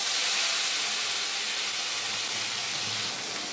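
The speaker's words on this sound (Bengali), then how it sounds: "পেঁয়াজটা দিয়ে দেবো তেলের মধ্যে।" Ground onion paste sizzling in hot oil with whole garam masala, bay leaf and cumin for a Bengali chicken curry, a steady loud hiss throughout with no talking.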